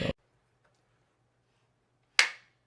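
One sharp hand clap rings out in a quiet room, a brief bright burst with a short decay, preceded by the tail of a faint sound and near silence.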